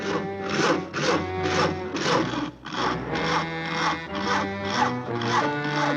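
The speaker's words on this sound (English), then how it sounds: "Isn't that your house Harry is sawing on" A hand saw rasps through a tree limb in a steady back-and-forth rhythm, about two strokes a second, loud and close.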